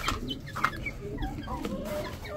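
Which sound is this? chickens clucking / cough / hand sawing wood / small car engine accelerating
chickens clucking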